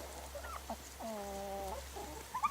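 Baby ducks kept at home make soft, faint chirping and peeping calls, with one clearer drawn-out cheep in the middle and a few quick peeps at the end, over a low steady hum.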